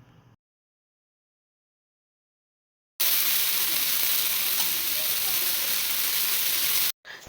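Fish pieces shallow-frying in a pan give a loud, steady, hissing sizzle that runs for about four seconds after a stretch of silence and then stops abruptly.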